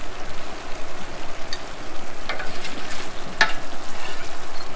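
Onions and chili ingredients sizzling in a cooking pot while being stirred, a steady close frying crackle with soft scraping and no talk.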